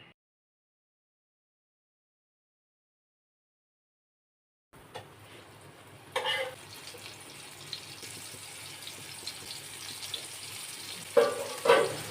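Pedve and kokre fish fry crisp in oil on a griddle, silence giving way to a moderate crackling sizzle with a few louder spatters and scrapes toward the end.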